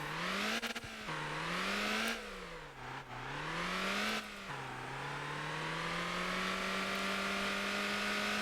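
An empty truck in the driving game Motor Town drones along with a loud, continuous engine tone that climbs and drops through several gear shifts.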